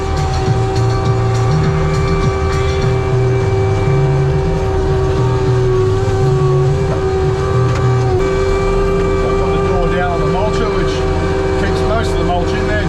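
ASV RT 135 forestry mulcher running at 2600 RPM while mulching flood debris, a loud constant engine and hydraulic drone with a strong steady hum and shifting load tones, close up and continuous.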